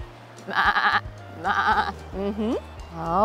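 Sheep feeding on hay at a small farm give several loud, drawn-out bleats in separate bursts, the later calls rising in pitch, over a steady low background drone.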